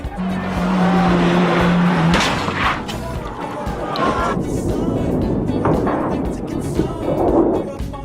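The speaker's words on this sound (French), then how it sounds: "La percussion est d'une grande violence, le feu se propage plus que prévu et la voiture finit sa course en contrebas de la chaussée" Stunt car crash in which the vehicle leaves the road and ends up below the roadway, catching fire: a loud, sustained roar and grinding noise lasting several seconds, with a steady drone at first, then continuing rumbling and clatter.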